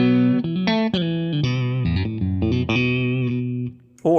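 Electric guitar in humbucker-single-single pickup configuration plays a bright, slightly overdriven melodic run of notes with chords, loud and close, ending in a brief pause and a final struck note.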